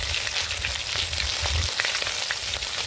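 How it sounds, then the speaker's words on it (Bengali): Prawns fry in hot oil, giving a loud, steady sizzling hiss with faint crackles and a low bubbling rumble underneath, close up and uninterrupted. "চিংড়ি মাছগুলো তেলের মধ্যে দিয়ে দেবেন"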